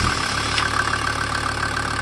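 A SsangYong OM662 2.9 turbo diesel engine idles steadily with a low continuous rumble and faint knocking, close by and unchanging, with no voices.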